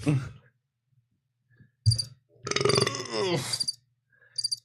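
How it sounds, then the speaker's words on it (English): A single throaty burp rises out of quiet, followed by brief murmurs and a short voiced sound, with stretches of near silence between. "Oh, he just burped, chat."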